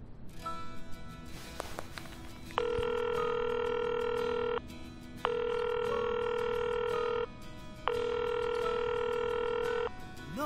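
A phone rings three times in long, evenly spaced electronic tones, with pauses between rings, and nobody picks up.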